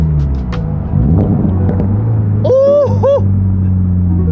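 A 2023 Toyota GR86 with an aftermarket catback exhaust rumbles deeply and burbles through downshifts, loud and close, with a brief vocal exclamation rising over it midway.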